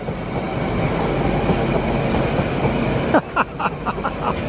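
Freight train rolling through Ealing Broadway station, a loud steady rumble with wheel clatter, then a series of rhythmic clacks as wagons pass over rail joints near the end.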